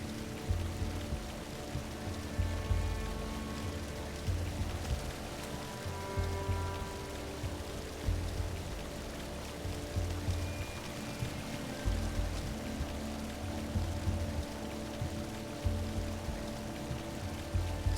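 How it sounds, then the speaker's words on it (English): Steady flowing water from the video game Unravel, a continuous rushing wash with faint tonal game music layered underneath. "So the water automatically pushes the log to the other side."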